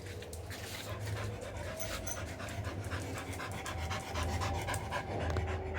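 An excited dog pants rapidly and steadily at close range, with quick rhythmic breaths continuing throughout and no one speaking.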